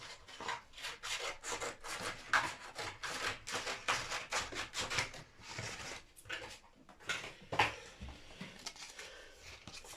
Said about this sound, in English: I'm happy to attack that with some 400 grit